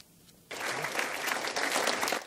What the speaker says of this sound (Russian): Вот так, стоя и под аплодисменты, сегодня в Казанском Суворовском встретили героя России.